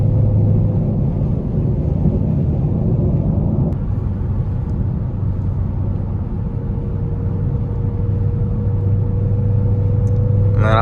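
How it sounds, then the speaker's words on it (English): A car engine drones loudly and continuously while driving in evening highway traffic, a deep steady rumble with a faint tonal hum, heard from close by with no talking. "Man, I love the sound of this car."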